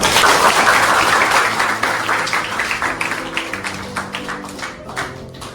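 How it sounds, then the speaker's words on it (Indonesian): A classroom group bursts into applause: dense, overlapping clapping starts loud and full, then thins into a looser, slower patter of individual claps as it fades. "Tepuk tangan semua."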